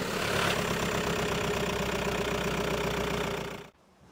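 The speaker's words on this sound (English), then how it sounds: "Just connect the RoadStart to your vehicle and start the engine." Vehicle engine running after a start from a Sealey RS131 RoadStart 12V emergency jump starter, a steady close idle with a low rhythmic chug that holds evenly, then cuts off abruptly near the end.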